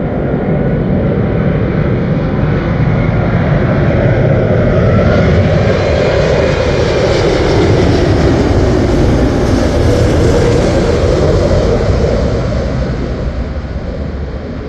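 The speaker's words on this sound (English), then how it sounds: "Another British Airways Airbus A380." British Airways Airbus A380 landing at Heathrow Airport gives a loud, sustained roar of jet engines that holds steady, then begins to fade slightly at the end.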